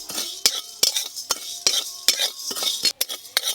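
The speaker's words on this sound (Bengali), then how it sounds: "শুকনো কড়াতে এইভাবে একটু ভেজে নিতে হবে" Whole cumin, fennel, poppy seed and coriander dry-roasting in a wok, stirred with a metal spatula in sharp, regular scraping clinks against the pan, close and clear with no voices.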